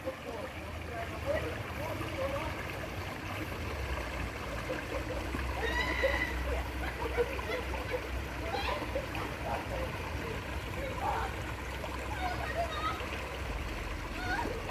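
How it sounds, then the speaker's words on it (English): George River flowing beside the bridge at Bathsheba on Barbados' coast, a steady broadband rush of running water mixed with surf-like wash, heard close and continuous, with faint talk and scattered sounds over it. "we now reach George River by the bridge"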